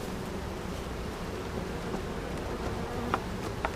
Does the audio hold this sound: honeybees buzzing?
yes